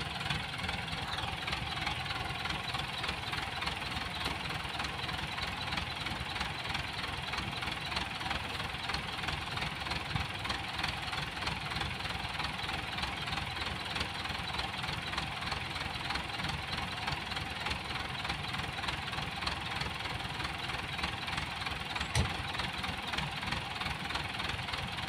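A Ford 7740 tractor engine idles in a steady, even rumble with a constant knocking chatter, close and unbroken for the whole stretch, with no voices.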